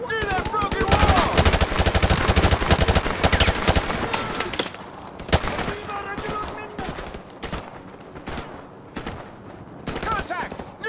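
Call of Duty Modern Warfare Remastered firefight: dense, continuous automatic gunfire with rapid bursts and single cracks, loud and sustained, with shouted soldier callouts mixed in.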